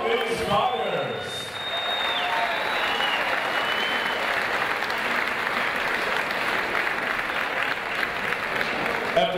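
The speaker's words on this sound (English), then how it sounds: "Let's get a nice round of applause out here for both of these fighters." Boxing audience at the Paramount applauds two fighters after a ten-round bout, dense sustained clapping and crowd noise filling the hall, loud and even, with a voice briefly heard at the start.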